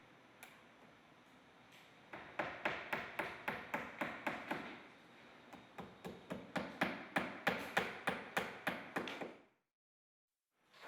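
Rapid, steady hammer taps drive nails into a Cedar Impressions shingle corner piece, coming in two long runs of regular strikes separated by a short pause, close and crisp, then silence.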